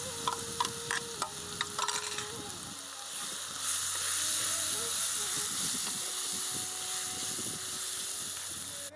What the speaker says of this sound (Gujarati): ચોપ કરેલી ડુંગળી ઉમેરીશું. ડુંગળી થોડી શેકાવા દઈશું.